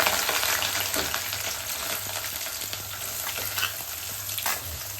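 Onions sautéing in hot oil in a pan with spices and curry leaves, a dense continuous sizzle close by with occasional stirring scrapes.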